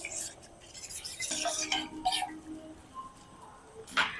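A spoon stirs cornflour into cold milk in a bowl for kulfi, with soft scraping and swirling strokes at close range and a few brief clinks, under faint murmuring.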